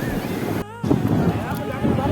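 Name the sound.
sea waves on the beach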